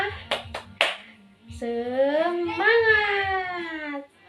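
A classroom of children claps three quick sharp beats of a spirit clap, then a drawn-out voiced cheer follows, loud and close.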